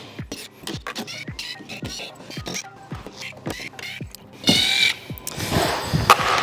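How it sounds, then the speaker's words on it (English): A power driver or drill backs screws out of a wooden shipping crate holding an electric trailer dolly, giving a series of short whirring bursts with creaks, close and loud, and a rougher scraping stretch near the end. "We're gonna go take all of these screws off all around the outside"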